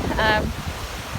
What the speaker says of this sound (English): Sorry about the noise from the river.